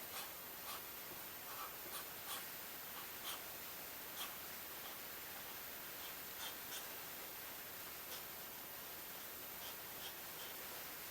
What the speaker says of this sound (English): I'm going to write out a tag to put on the inside of this